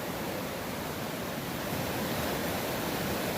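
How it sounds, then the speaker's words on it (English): Fast-flowing water in a deep channel at the outside bend of the East Fork river produces a steady, loud broadband rush close by, continuous and unbroken, with no voices. "this is a fast channel of water"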